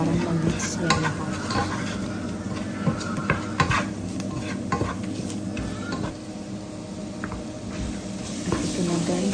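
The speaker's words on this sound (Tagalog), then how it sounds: "I-mix na natin, haluin natin maigi para ma-mix niya lahat." Spices being stirred into fish biryani in a pan, a steady scraping stir over soft sizzling with occasional utensil clinks against the pan, close and continuous.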